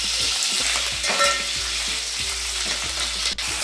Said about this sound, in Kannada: ಇದನ್ನು ಚೆನ್ನಾಗಿ ಟರ್ನ್ ಮಾಡ್ತಾ ಫ್ರೈ ಮಾಡ್ಕೊಳ್ಳಿ